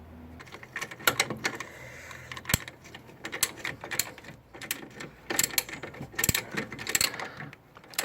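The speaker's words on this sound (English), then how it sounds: "You may have to get a jack underneath and push it up" A car jack is pumped up under a 1998–2004 Ford Focus, giving a close, busy run of metallic ratcheting clicks and mechanical clatter in uneven bursts.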